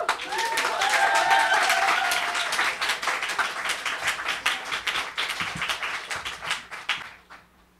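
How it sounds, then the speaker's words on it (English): An audience at a book launch applauds a poet, clapping loudly at first, then thinning into scattered individual claps before fading out, with a voice briefly heard early on. "Let's give her a big round of applause."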